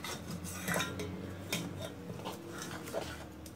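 A spoon scrapes thickened milk cream from the sides of a pan while rabri is being made, with repeated soft metallic scraping strokes and light clinks, fairly quiet and close.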